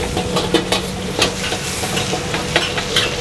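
Mie goreng kampung fried noodles being stir-fried in a busy restaurant kitchen: a steady sizzle and hiss with repeated metallic scrapes and clanks of the spatula against the wok, loud and close, with no talking.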